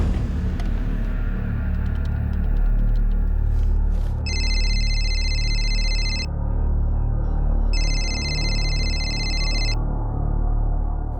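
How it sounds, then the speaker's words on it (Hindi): An electronic landline telephone ring sounds in two long bursts separated by a pause, over a heavy, constant low rumble. "बिहार से फोन है, लैंडलाइन से। तब तो उठा ही लो"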